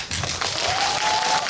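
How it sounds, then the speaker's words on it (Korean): Spontaneous audience clapping during a movie talk event for a Korean historical film, a short, dense burst of applause from a theater crowd that sustains evenly throughout. "박수를 청하지 않았는데도 나오는 자동 박수 너무너무 감사드립니다"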